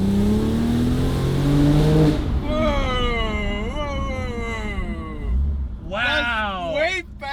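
A Porsche 911 Turbo engine revs hard through second gear, rising in pitch in several pulls, close and loud from inside the car, with people talking and exclaiming over it.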